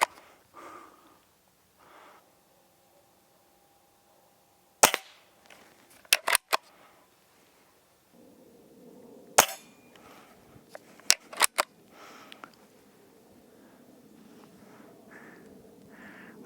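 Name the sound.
Hatsan Model 25 Supercharger .177 air pistol shots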